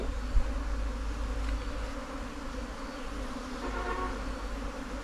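Honeybees from a large underground nest swarm during collection, a dense continuous buzzing that fills the whole stretch at moderate loudness, steady with a faint low hum beneath.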